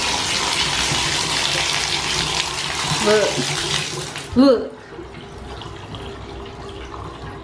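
Water running and gurgling as it drains through a cleared bathtub pop-up drain, a steady broadband rush that cuts off abruptly partway, leaving a quieter low trickle, with a brief spoken word over it.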